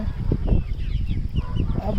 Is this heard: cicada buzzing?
no